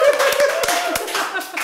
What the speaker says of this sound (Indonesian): tepuk tangan dulu buat Mbak Desi